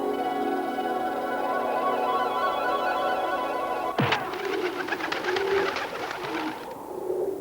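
Pigeons flutter and coo close by, with a burst of wingbeats midway over a steady background hum, in an animated film.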